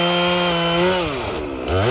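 A chainsaw runs loud and close, its engine pitch steady then dipping and climbing again as it bites into a freshly felled walnut or white oak log.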